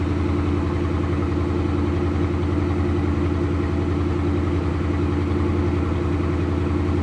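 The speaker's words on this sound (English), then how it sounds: "Just a great sounding V8." A 1970 Chevrolet Caprice with a 454 V8 and dual exhaust idles steadily, its deep, even rumble held close and loud for the whole stretch with no one talking.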